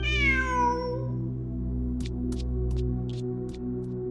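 A cat in Genshin Impact gives one clear, drawn-out meow that slides downward, followed by a steady low hum and a few faint clicks, with no talking.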